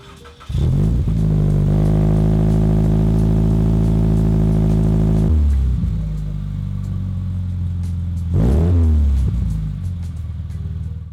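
A loud Scion FR-S sports car with a deep custom exhaust and muffler idles, then revs hard in long throaty bursts, dropping back to a rumbling idle between pulls.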